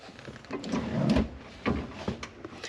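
The cab door of a 1940 Chevy truck with a Cummins diesel swings open with a scraping creak, followed by a few quieter thumps and clunks close by.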